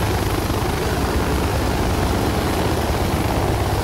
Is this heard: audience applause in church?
no